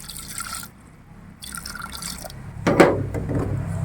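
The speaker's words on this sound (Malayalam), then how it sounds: "ലേശം വെള്ളം ഒഴിച്ചു കൊടുക്കാം." Water poured into a pressure cooker while making a Kerala-style beef and koorka curry: a quiet, close splashing pour that swells into a louder liquid gush about two-thirds through and keeps running to the end.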